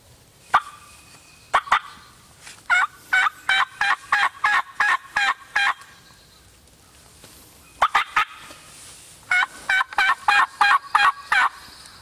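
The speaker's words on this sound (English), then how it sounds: "This bird gobble is definitely getting closer" Wild turkey gobbling outdoors on public land during a spring hunt, two loud bursts of rapid rattling gobbles with a pause between, close and clear with no talking.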